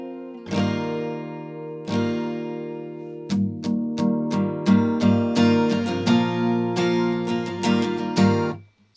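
An acoustic guitar plays the pre-chorus of a song, starting with a few spaced strums and moving into a steady, rhythmic strumming pattern of ringing chords, close and clear with no talking.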